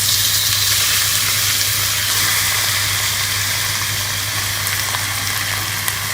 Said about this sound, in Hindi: और चिकन को कलर चेंज होने तक हम फ्राई कर लेंगे।